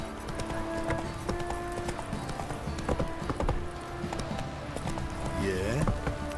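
Hooves of the horse Roach clip-clopping steadily in The Witcher 3: Wild Hunt, a continuous trotting rhythm over game music and ambience, with a brief whinny-like sound near the end.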